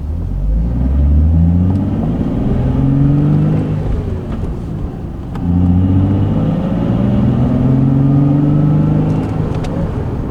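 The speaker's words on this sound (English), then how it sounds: "Basically, the car whines on the first and the second gear." A car pulls away through first and second gear with a faint transmission whine. Two loud, close engine pulls rise in pitch, one after the other, with a brief dip between the gear changes.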